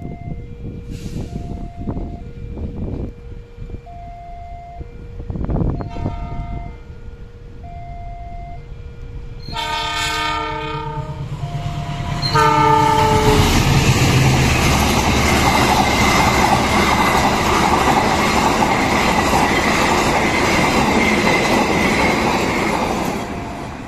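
At a level crossing, warning bells ring in repeated tones, then an Argo Lawu passenger train arrives with a horn blast and a loud, rushing roar of wheels and carriages that continues to the end.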